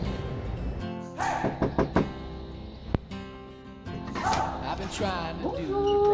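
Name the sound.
knocking on a door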